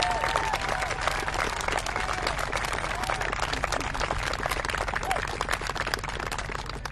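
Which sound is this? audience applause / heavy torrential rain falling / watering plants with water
audience applause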